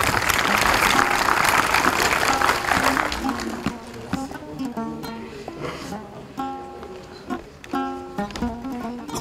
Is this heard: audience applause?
yes